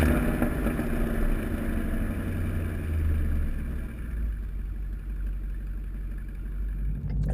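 Mustang GT with a Borla Atak cat-back exhaust cruising on a highway, a steady low engine drone and road rumble that holds even and fairly quiet throughout.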